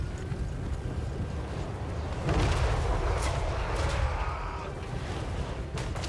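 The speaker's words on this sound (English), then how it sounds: "our cannons are continuing to bombard the enemy line as they advance" Cannon artillery from Total War: Warhammer 3 pounding an enemy line, a continuous heavy rumble of booming fire that swells loudest around the middle, with no voices heard over it.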